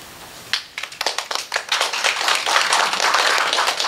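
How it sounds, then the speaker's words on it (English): Audience at a neighborhood meeting claps, starting with scattered hand claps that quickly swell into steady, close, fairly loud applause with no talking over it. "If we could save all the applause till later, right at the very end."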